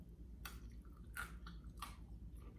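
Crisp baked lasagna with crunchy edges and firm noodles is bitten and chewed close up, giving three distinct crunchy bites about half a second apart over a low background hum.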